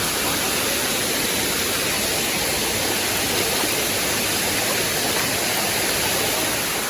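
A waterfall in Kanchanaburi, Thailand, heard from inside it, gives a dense, loud, unbroken rushing roar of falling water that fills the whole stretch without any change.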